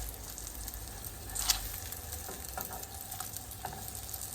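Hamburger patties sizzling as they fry in a pan, a soft, steady crackle and hiss with a few small pops, fairly quiet and heard on its own without talk.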